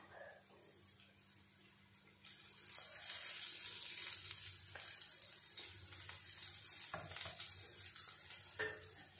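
Thalipeeth frying in oil in a pan, a steady hiss of sizzling that swells once the oil goes in and carries on with faint scraping and stirring sounds, no voice heard.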